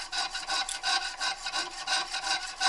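A hand file rasps back and forth cutting a slot in thin knife guard stock, with about a dozen quick, even strokes in a steady rhythm, close and clear, with no voices.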